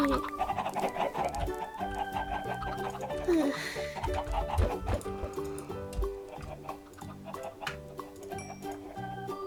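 Chickens cluck repeatedly in a coop in Minecraft, their calls mixed with ticking game sounds and a steady background music track.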